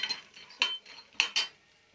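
A utensil scrapes and clinks against a pan while idli pieces and peanuts are stirred and fried, a few short metallic taps and scrapes close by with no talking.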